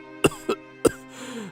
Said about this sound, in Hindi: इतना कहकर बूढ़ा फिर से खांसने लगा।